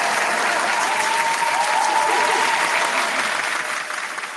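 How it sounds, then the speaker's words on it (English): Sustained applause from a studio audience, dense and steady for several seconds before tapering slightly at the end. "Round of applause for the baby boomers."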